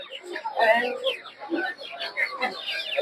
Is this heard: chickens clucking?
yes